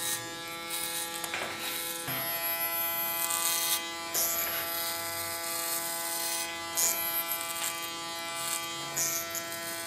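Electric hair clippers buzz steadily and close up while cutting short hair on a braided hairstyle, with a high whine and brief rattling surges as the blades pass through, running continuously with no talk.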